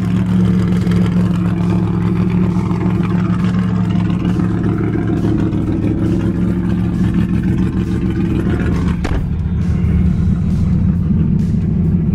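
A car engine idles with a steady low rumble, close and loud, holding an even tone with a brief shift near the end.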